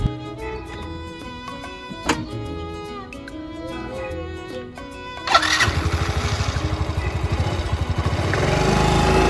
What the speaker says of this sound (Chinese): 骑上我的小摩托，然后带大家去 转一圈